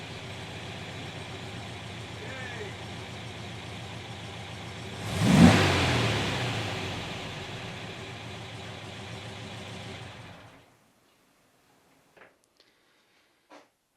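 A restored Porsche 356 drives with a steady engine drone that swells briefly as it revs up, then cuts off to silence followed by a couple of faint clicks.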